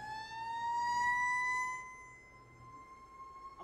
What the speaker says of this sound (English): I'm gonna wait for this fire truck to go by